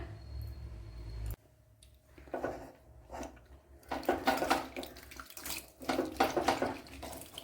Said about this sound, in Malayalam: നല്ലപോലെ ഒന്ന് കഴുകി എടുക്കണം